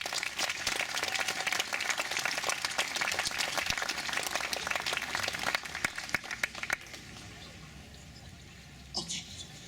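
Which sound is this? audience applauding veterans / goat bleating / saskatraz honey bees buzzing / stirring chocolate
audience applauding veterans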